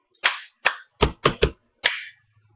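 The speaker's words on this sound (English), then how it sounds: "So you're going to clap twice and bang the surface three times." Cup song rhythm made by hand claps and bangs on a surface: six sharp, crisp hits in a quick pattern, close and loud, with short silences between them and no talking.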